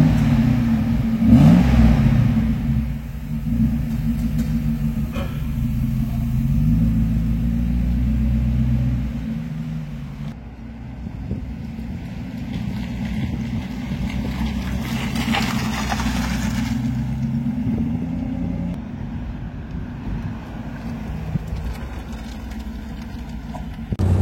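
A 1990 Mercedes 500 SL with automatic gearbox on a test drive, its engine giving a deep, steady low rumble from inside the cabin, with a swell of revs early on and continuous road and mechanical drone throughout.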